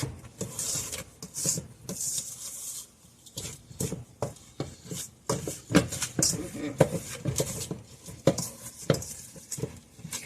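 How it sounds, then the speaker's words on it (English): Oatmeal creme pie batter is mixed in a bowl, giving repeated soft scraping and clattering strokes of a utensil against the bowl, close by, with a person talking over parts of it. "Mix that real good."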